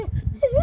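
A dog on a farm gives a short, close whimper: soft, low grunting noises, then a thin, high, wavering whine that rises and falls.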